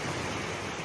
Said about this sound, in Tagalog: nandito tayo sa dagat. Tingnan nyo mga kaibigan, alon.